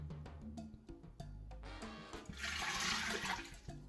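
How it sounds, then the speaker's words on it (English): Water pours into an Instant Pot pressure cooker holding black beans, a continuous splashing gush that starts with knocks and clatter, swells louder midway, and stays close throughout. "Then I'm gonna go ahead and add the water."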